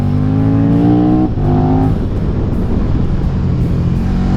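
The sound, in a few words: KTM 1290 Super Duke GT motorcycle engine revving and gear shifts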